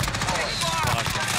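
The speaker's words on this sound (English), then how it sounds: "There was just like 8 different guns going off." Several guns firing at once in the video game Warzone, a dense, continuous barrage of overlapping shots under loud, excited voices.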